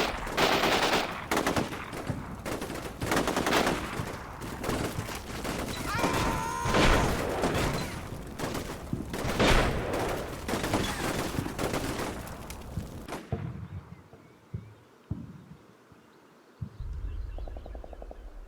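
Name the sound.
gunfire, flanking fire from the video game Combat Mission Shock Force 2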